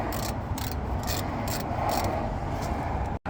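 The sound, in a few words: 15mm socket ratchet undoing manifold bolts on Land Rover engine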